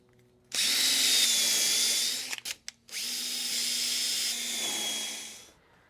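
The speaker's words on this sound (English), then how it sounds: "I'm going to zip through here as quick as I can and drill these holes out" A power drill bores holes in wood for the bottom frames of boxes: one steady high whine for about two seconds, a few short stuttering bursts, then a second long run, close and alone.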